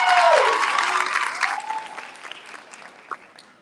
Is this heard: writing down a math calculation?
no